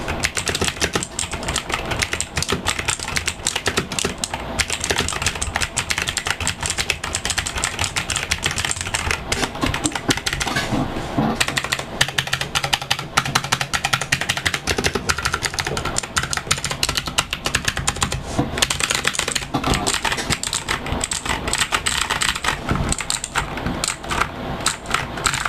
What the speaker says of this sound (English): Here's just typing on my Cherry MX Blue keyboard.